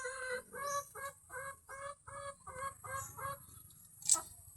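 Rhode Island Red chickens clucking in a breeding cage, a steady run of short rhythmic clucks close by and moderately quiet, ending in one sharper, higher call, with no talking.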